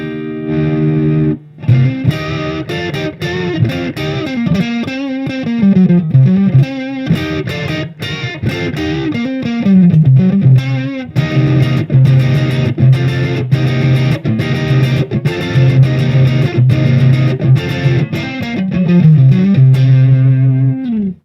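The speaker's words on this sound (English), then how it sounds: "there is more distortion in the sound, there's more crunch in the sound" Electric guitar played through a Boss Katana 100 head amp on its crunch setting, loud distorted chords and riffs with sustained low notes and strummed attacks, continuous for the whole stretch with no talking.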